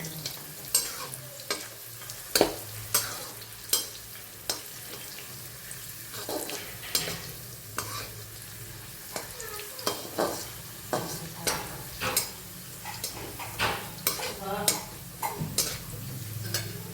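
Raisins and cashews stirred in a frying pan for poha chevdo, a steady run of sharp scraping and clattering strokes roughly every half second over a soft sizzle, close and fairly loud, with no talk.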